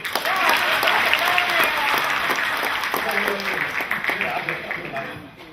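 Audience members at a live event clap together in a sustained burst of applause that starts loud and gradually tapers, with a voice speaking over the clapping.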